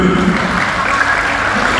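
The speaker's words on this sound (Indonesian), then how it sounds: "Tepuk tangan dulu." Audience applause at a national teachers' month seminar, a steady wash of hall clapping, full and sustained, with no voices over it.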